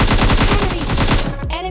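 Rapid automatic gunfire in the video game PUBG Mobile Lite, a loud, fast, evenly spaced burst of shots that runs almost the whole time and then cuts off, leaving a brief ringing tail.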